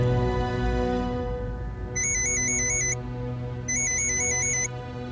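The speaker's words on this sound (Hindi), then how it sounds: "परिमल भैया का फोन।" A phone ringtone trills in two short bursts of rapidly alternating electronic tones, loud and close over a sustained musical background, with no talking.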